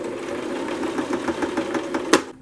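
A domestic sewing machine stitches rope cording onto a cushion, a steady close mechanical whirr with a fast rhythmic needle patter, ending in a brief sharp clunk just before stopping.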